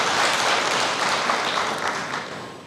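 A church congregation claps in sustained, dense applause that fills the room, steady and loud throughout without any voice over it.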